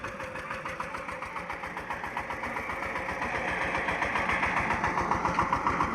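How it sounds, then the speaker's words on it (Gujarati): A tractor engine chugs steadily with a rapid, regular knocking rhythm that grows slightly louder and closer over time. "જો પાછળ આગળ આગળ હાલવા માંડ્યું છે ટ્રેક્ટર"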